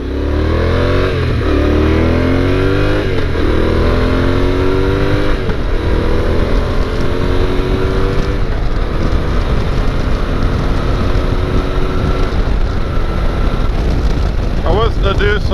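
Riding a motorcycle with the helmet visor cracked open to the first notch fills the helmet with heavy, constant wind roar, the engine droning and shifting pitch underneath as the bike accelerates, loud and close throughout.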